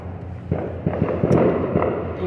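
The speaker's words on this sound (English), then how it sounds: "You have to excuse the fireworks. They're here at the fair" Fireworks go off at an outdoor fair, a series of dull irregular thumps and pops at a distance over a loud, continuous crowd-and-machinery rumble.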